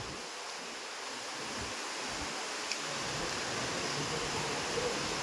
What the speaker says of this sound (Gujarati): સરસ મજાનું ઝરણું વહે છે